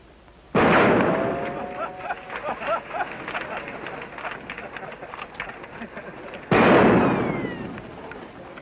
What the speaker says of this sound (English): You saw how they ride, now watch how they shoot